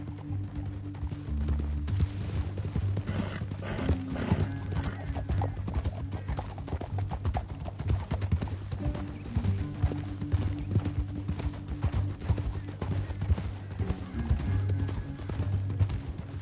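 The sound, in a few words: horse hooves in a video game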